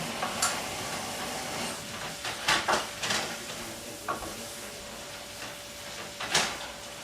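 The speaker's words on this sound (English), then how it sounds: "this sounds like it's burning" Food crackles and sizzles steadily in a hot pan, with a few sharp clinks and knocks of utensils punctuating the frying.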